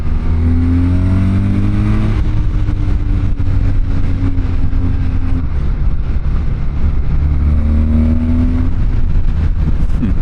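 A BMW R12 motorcycle with a boxer engine, about 95 horsepower, accelerating on the road, its engine note rising in two revving climbs with a gear change between them, loud and close over wind noise, with no talk.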